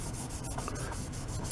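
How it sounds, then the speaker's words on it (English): A used 3M Scotch pad rubbing a steel screwdriver during sharpening: a continuous close, loud scrubbing hiss in quick even strokes, with no talking. "This is a 3M Scotch pad, kind of a used up one, but it seems to be working fine."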